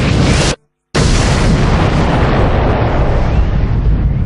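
A massive roaring boom representing the Big Bang fills the space with dense, rumbling noise, cut by a brief silent gap before the blast surges back and sustains loudly to the end.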